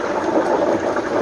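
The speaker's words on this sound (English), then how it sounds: "just some of the moisture from the bird dropping into the grease" Steady crackling sizzle of hot oil at 375 degrees in a turkey deep fryer as moisture from the bird drips in, dense and fairly loud, with no voices.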